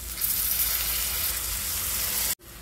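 Spice paste of cumin, coriander, chili and turmeric powders frying in a pan for a fish curry, a steady loud sizzle throughout that cuts off abruptly near the end, then a quieter hiss continues.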